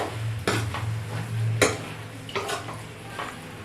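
A spatula clatters and scrapes in a pan while mango and mixed vegetable palya is tossed together, a few sharp knocks spaced over a few seconds above a low steady hum, close by and without speech.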